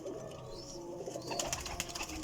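Red Pari pigeons, a female among them, coo softly in a loft, with low murmuring calls running steadily alongside faint rustling and wing movement.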